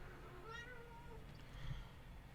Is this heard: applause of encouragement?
no